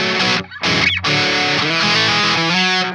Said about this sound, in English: crunch channel or even a high gain channel sound really dirty and kind of fuzzy